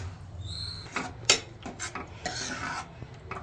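Cooked onions and tomatoes being mashed with a large ladle in a pot for chicken curry, giving a series of soft scraping, clinking and squelching strokes, fairly close and moderately loud with no talk.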